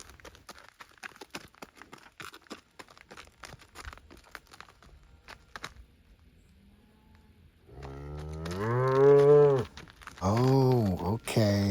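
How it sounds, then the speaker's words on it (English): Black Angus cattle low in long, deep moos near by beside the Rio Grande, coming in the second half after scattered rustling and clicks. "These cattle have come for the river, the Rio Grande. Black Angus?"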